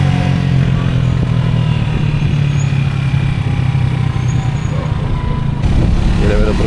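Motorcycle engine running steadily through a busy street in Medellín, Colombia, a loud low drone sustained throughout with traffic noise and a brief voice near the end.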